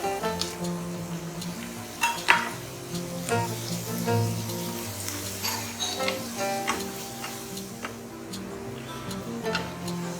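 Fenugreek leaves and onion sauté in a pan for corn methi pulao, with a soft sizzle and scattered clinks and taps of a spoon against the pan, no talking.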